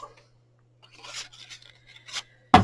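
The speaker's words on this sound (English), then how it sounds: "So we're going to punch this out now" A craft punch stamps a shape out of card with one sharp, close clunk at the very end, after a few seconds of soft rustling and handling of the card.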